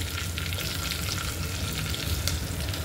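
Dense, continuous sizzle of garlic frying in hot oil as tempering for varan (dal), close and steady, with a low background hum and no talking.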